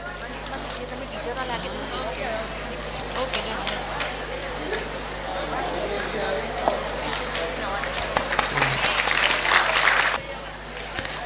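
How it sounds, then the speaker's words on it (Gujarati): An audience applauds at Femicon-2024, a medical conference felicitation, with clapping building to a dense burst near the end over steady crowd noise and talk. "તાળીઓનો ગડગડાટ સંભળાવવો જોઈએ."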